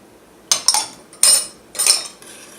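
Chili sauce with sugar and red pepper flakes is stirred in a pot, a utensil scraping and clinking against the metal in four short, close strokes with quiet gaps between them.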